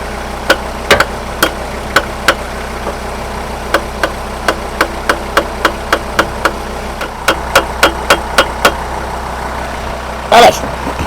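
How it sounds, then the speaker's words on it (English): Sharp metallic taps of a hammer on a running engine ring out one after another in a steady rhythm over a low engine rumble, with a brief louder burst near the end. "Try gently exciting it with a hammer."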